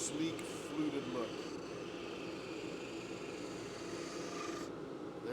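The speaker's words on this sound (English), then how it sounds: "Right now I'm just smoothing it out." A turned pen blank of drippy Fordite is being smoothed on a spinning lathe, making a continuous soft raspy rubbing under the steady hum of the machine, while a person talks quietly now and then.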